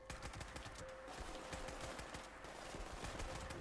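Dense gunfire from the video game Fallout 76, with rapid shots rattling steadily throughout at a fairly faint level.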